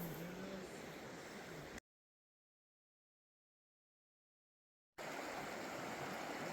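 A river along a long-distance hiking trail rushes steadily as broadband water noise near a campsite, with an abrupt stretch of total silence in the middle before the flow resumes.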